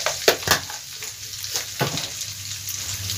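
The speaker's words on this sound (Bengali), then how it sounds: "একটা শুকনো লঙ্কাকে আমি ভেঙে ফাটিয়ে দিলাম। ছোটো চামচের 1/2 চামচ জিরে বা গোটা জিরে ফোড়ন দিলাম।" A dry chilli and whole cumin tempering sputters in hot oil. A few sharp crackles and pops stand out near the start over a quieter background sizzle.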